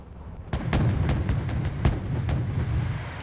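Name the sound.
AMOS twin mortars firing in Wargame Red Dragon video game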